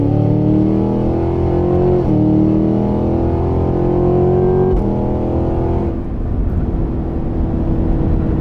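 A stock 2023 Cadillac Escalade-V's supercharged engine pulls hard from speed, a deep, smooth rising drone with two quick gear changes, then a drop in pitch as it eases off, steady and loud from inside the cabin.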